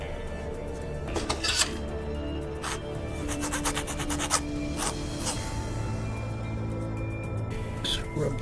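A plastic part from a 1/72 Hasegawa Macross Queadluun Rau model kit has its nubs filed down, making a string of short close rasping scrapes in uneven bursts over a faint background hum.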